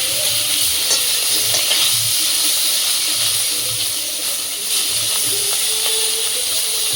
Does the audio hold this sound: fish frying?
yes